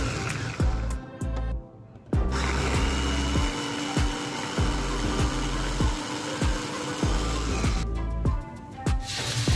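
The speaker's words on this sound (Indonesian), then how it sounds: "Ini aku kasih air sedikit, lalu aku hancurkan menggunakan chopper." An electric chopper whirs as it grinds red chilies and kencur with a little water, a loud buzzing motor running in pulsed bursts with rhythmic clacking, stopping briefly near the start and again toward the end.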